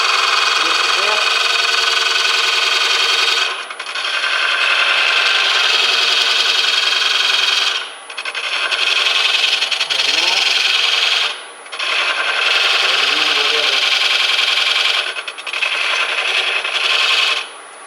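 Woodturning tool cutting a red oak heart bowl on a lathe, giving a steady loud scraping hiss with a few short breaks as the tool is lifted and brought back in; a voice speaks softly over it at times.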